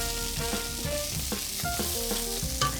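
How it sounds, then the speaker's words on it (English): Hot oil and butter sputter and crackle steadily in a pan while chicken schnitzel fries, a continuous close sizzle with no talking. "I can hear the oil and butter sputtering away"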